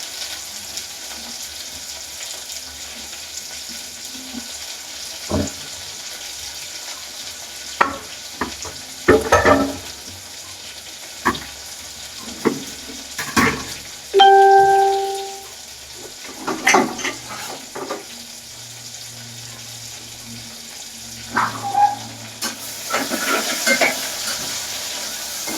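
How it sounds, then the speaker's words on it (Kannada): Onions fry and sizzle in a pan while being stirred with a utensil, a steady crackle broken by scraping and clinking strokes, close and fairly loud with no talking. "ಲೈಟಾಗಿ ಫ್ರೈ ಮಾಡ್ಕೋಬೇಕು."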